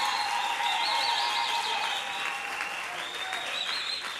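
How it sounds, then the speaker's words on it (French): A church congregation at a wedding applauds, a steady moderate patter of clapping with a voice or tones riding over it throughout. "Applaudissez pour lui."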